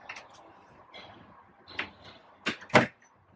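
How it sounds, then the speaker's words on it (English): A travel-trailer entrance door paired with a screen door is worked open and shut, soft rattles and latch clicks building to a couple of sharp closing knocks, close by with no talk. "So you have a screen door that works on its own or with the main door."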